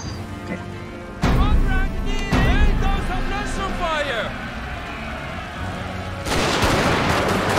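Musket volleys in Fall of the Samurai: loud massed gunfire booms out in several heavy bursts, with one near the start, another soon after and a dense crackling volley near the end, over battlefield din while a voice talks throughout.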